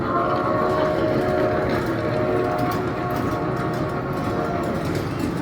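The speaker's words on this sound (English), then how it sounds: "they do have the cool little locomotives here driving around the mall" Small miniature locomotive train running around inside a shopping mall, a continuous rumbling rattle of wheels and motor with faint whistle-like tones, loud and steady amid indoor crowd ambience.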